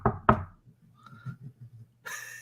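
Two sharp, loud knocks on a door in a pre-1928 building, followed by softer scattered taps and a brief burst of noise at the end.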